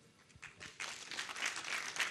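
An audience breaks into applause at a public address about the COVID period, the clapping swelling from a scattered start into a fuller ovation, moderately distant and heard without talk.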